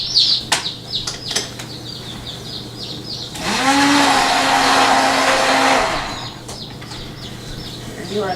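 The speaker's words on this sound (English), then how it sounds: "And now we're going to use our stick blender, and we're going to mix it to what we call trace" A stick blender whirs in one loud, continuous burst of about three seconds through aloe vera soap batter in a slow cooker, with scattered chirps and small knocks before and after it.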